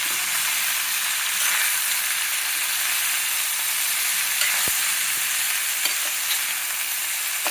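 Steamed cauliflower frying with masala spices in a pan, a steady dense sizzle with soft stirring scrapes and one sharp clack from the spoon, close and continuous with no talking.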